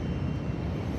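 Steady droning roar of a fighter jet engine in the Drakengard video game, a continuous low rumble with a faint high whine, moderately loud and unbroken, with no voices.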